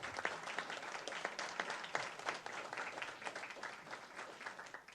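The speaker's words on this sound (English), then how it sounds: "Let's give them another round of applause." Faint, steady applause from an audience at a school board of education meeting, many hands clapping together at a distance with no voices on top.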